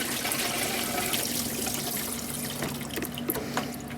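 Coolant, greenish water with a rusty tinge, gushes steadily from a PLG AMX radiator once the clamp is loosened, a close, continuous pour and splash with no one speaking.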